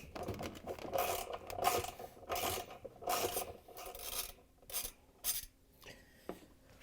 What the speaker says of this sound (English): we're going to reach in with a 10mm socket, an extension, and a ratchet